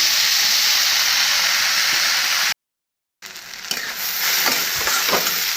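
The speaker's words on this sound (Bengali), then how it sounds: "রসুন সম্বার দিয়ে শাকটা বানিয়ে নিই" Leafy greens sizzle and hiss loudly in hot oil with a garlic tempering, a steady frying crackle that cuts out briefly, then resumes with stirring clatter.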